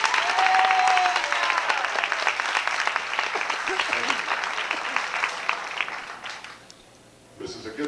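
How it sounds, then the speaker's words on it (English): Applause from an audience aboard a 1987 Angels baseball fan cruise, dense, sustained clapping that fills most of the clip before fading away, with a brief murmur of voices returning at the end. "So I'd like you to give us a nice round of applause"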